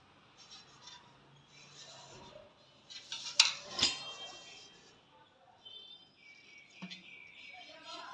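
Heavy old metal pot, a sambadam of about 3 kg capacity, handled on an antique sale table: a couple of sharp metallic clangs and knocks mid-clip, with quieter rattling and room noise around them.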